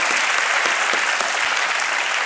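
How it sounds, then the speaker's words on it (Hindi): A studio audience on a televised quiz show applauds in a dense, steady burst of clapping that holds evenly throughout, with no voices over it. "तालियों के साथ एक बार इनका स्वागत हो जाए।"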